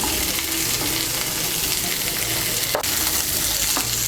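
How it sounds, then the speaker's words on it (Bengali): Chunks of papaya and drumsticks fry in a pan with a loud, dense, continuous sizzle, while a utensil scrapes and stirs through them now and then. "পেঁপে আর সজনে ডাঁটাটাকে মিশিয়ে নেব"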